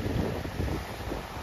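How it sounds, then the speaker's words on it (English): Ocean waves meeting from two sides at a cape shore on an Indian island, a dense roar of surf under heavy wind buffeting the microphone, close and continuous. "from here we have one shore, from there we have another shore, and the waves clash right here"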